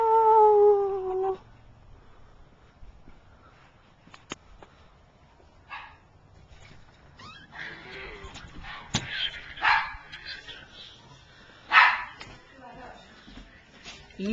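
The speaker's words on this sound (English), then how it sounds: "Eli, the Halloween dog." A dog dressed up for Halloween at a family home barks and yips in short scattered bursts, mixed with background voices and household noise.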